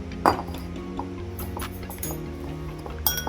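Egg and spices are stirred in a bowl, with light clinks and taps of a utensil against the dish, one sharper clink early on, quiet and close.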